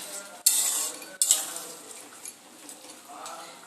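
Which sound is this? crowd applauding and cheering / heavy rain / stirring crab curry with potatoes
stirring crab curry with potatoes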